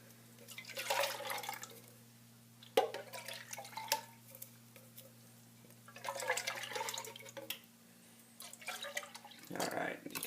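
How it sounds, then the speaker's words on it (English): Water poured into a bubbling tomato gravy, splashing and sizzling in loud bursts with softer gaps between them while a person talks. "So we're going to add some of that water right away."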